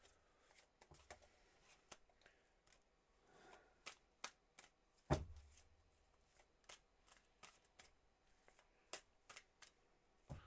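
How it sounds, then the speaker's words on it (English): Tarot cards are shuffled and tapped close up in a quiet room, with a series of crisp, separated snaps and one louder thud partway through. "All right, here are your 7 official shuffles, Zach."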